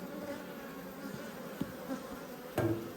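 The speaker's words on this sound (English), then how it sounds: "So there's a few bees flying around, mainly from the hive next door that I just went through." Honey bees buzz around an open hive in an Australian apiary, a faint, steady drone of several insects with one brief louder pass as a bee flies close.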